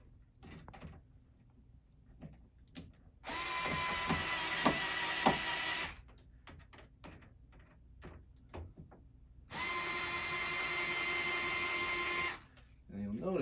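A power drill driving a screw while installing a Shepherd smart door lock, two steady whirring runs of about three seconds each, separated by quieter handling clicks and taps in between.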